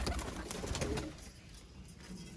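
Teddy breed pigeons coo softly nearby in a quiet, continuous low murmur for a couple of seconds, with no voices present.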